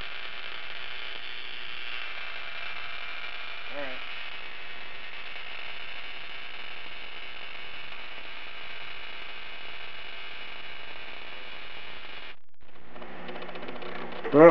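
Mini Tesla coil sparking to a screwdriver in a steady buzzing, crackling hiss that runs unbroken for about twelve seconds, then cuts off before a brief louder burst at the end.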